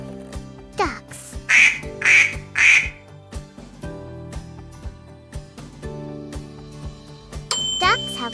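Ducks quack three times in quick, loud, nasal bursts near the start, followed by a few bell-like dings and chimes and a short squawk near the end.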